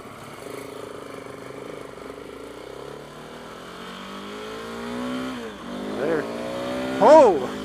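A KTM 690 Enduro motorcycle engine pulls under acceleration while riding in second gear, rising in pitch with a sharp rev near the end, heard close under wind and a voice talking over it.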